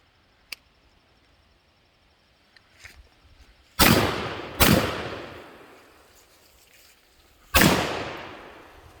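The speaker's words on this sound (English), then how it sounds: "I'm going to fire it for you" A German drilling, rechambered to fire 16 gauge 2 3/4 shells, fires three sharp, loud shots outdoors, two close together and a third a few seconds later, each trailing off in a short echo.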